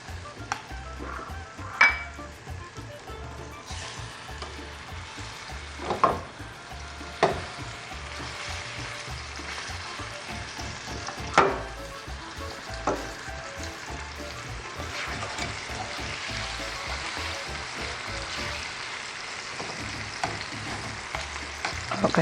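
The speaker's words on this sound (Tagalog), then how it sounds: "I'm going to fry our breast chicken" Chicken breast sizzling in olive oil in a pan, with steady frying crackle, occasional utensil clinks and scrapes against the pan, close and continuous with no talking.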